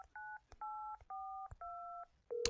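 A telephone in the Resident Evil 7 video game sounds as a sequence of clear electronic tone bursts, evenly spaced and fairly quiet, ending with a sharper, brighter tone.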